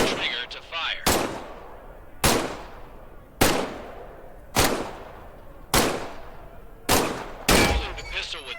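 Pistol shots ring out in the VR game Medal of Honor: Above and Beyond: eight sharp, loud single reports fired at a steady pace about a second apart, each trailing off in a short echo.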